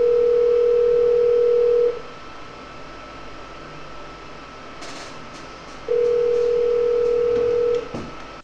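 Telephone dial tone from an Asterisk click-to-call setup: a steady, loud tone sounds for about two seconds, drops out into hiss and a few faint clicks, then returns for another two seconds.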